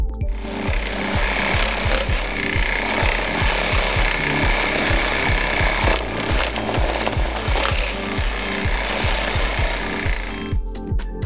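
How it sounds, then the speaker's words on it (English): A Spyder reciprocating brush mounted on a reciprocating saw scrubs a surface, giving a loud, steady, rapid back-and-forth rasping buzz that runs without pause from start to finish, with no voices. "By using a brush that attaches to a reciprocating saw, this handy gadget lets you clean a variety of surfaces in a fraction of the time"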